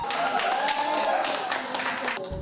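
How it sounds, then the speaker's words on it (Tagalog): Fans at a sports bar watch party in Pasig cheer and clap steadily for Ayala's points, a dense wash of crowd noise with shouting voices over continuous applause. "Walang tigil sa hiyawan at palakpakan ang fans sa tuwing makakapuntos si Ayala."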